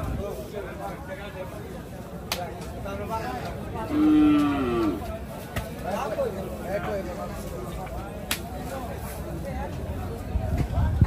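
Cattle brought by traders to the Hazratpur livestock market in Bangladesh, with one clear, loud moo rising over a steady background of crowd chatter and market bustle.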